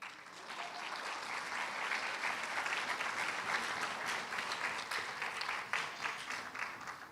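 An audience at a Christian academy graduation ceremony applauds steadily, a dense wash of many hands clapping that swells in and sustains for several seconds at a moderate distance, with no talking over it.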